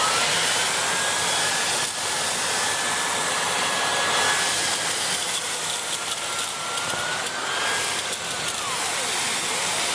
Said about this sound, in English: then we're going to see how well the turbo brush cleans the chair